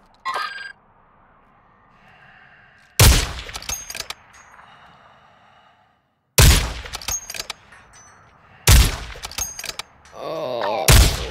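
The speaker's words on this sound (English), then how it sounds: "It's explosive rounds, I think." Explosive rounds fire in bursts in a first-person shooter, three or four loud, sharp volleys of rapid cracking shots separated by quieter stretches of faint background noise.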